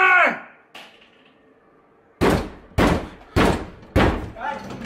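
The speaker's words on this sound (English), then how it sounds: "Charlie, he's gonna knock your door down" Loud banging on a door: four heavy, evenly spaced thuds follow a shouted voice and a single earlier knock, during an argument in a house.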